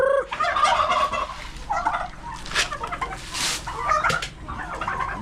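Farm chickens cluck and squawk close by in a lively, overlapping chorus, with turkey-like gobbling calls mixed in, loud and continuous.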